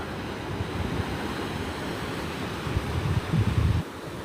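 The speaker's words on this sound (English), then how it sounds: "here we can watch the water coming in and out with the tide and the" Ocean waves wash in and out of rocky tide pools at La Jolla at midday low tide, a steady close rush of surf and water with a heavier surge near the end.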